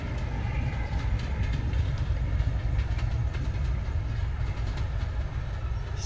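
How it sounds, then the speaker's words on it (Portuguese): A long train hauled by an MX620 locomotive rolls past at steady volume, heading toward Arcos, with a continuous low rumble and a faint metallic rattle of the wagons and no pauses. "Foi embora o trenzão MX a ponto 8, seu lindo som, sentido Arcos."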